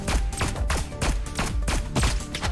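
Rapid repeated gunfire from shooting in the video game Neon Abyss, a dense, loud fusillade of sharp electronic bursts with no pause.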